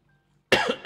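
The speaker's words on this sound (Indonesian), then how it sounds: "Aduh, batuknya dilanjutkin." A single sharp, close cough bursts out after a moment of near silence, followed by a second short cough.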